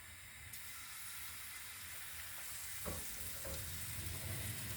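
English pancake batter sizzles in a lightly oiled pan, a steady soft frying hiss with a few faint scrapes and clinks near the end.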